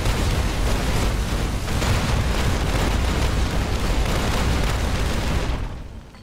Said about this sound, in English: Atom bomb!